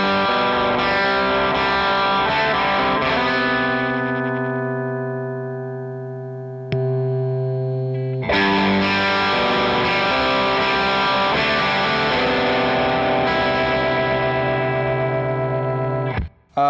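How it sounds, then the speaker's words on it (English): Electric guitar played through a Throbak overdrive pedal into an amp sounds thick, loud, sustained overdriven chords that ring and decay, then cut briefly before a fresh chord is struck and held, ending abruptly. "It just sounds like more of the amp."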